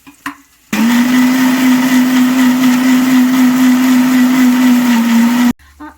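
An electric kitchen mixer grinds ginger, garlic, roasted gram and coconut into paste, a loud steady whirring drone that starts abruptly and runs for about five seconds before cutting off.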